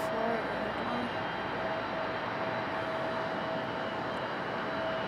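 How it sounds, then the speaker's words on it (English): A Southwest airliner on approach to land at Raleigh-Durham, its steady engine roar held at an even level throughout, with faint talk in the background. "This is a Southwest coming in."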